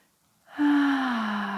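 During a yoga class, a single long voiced exhale begins after a moment of silence, then holds as a close, steady breathy tone that slowly falls in pitch.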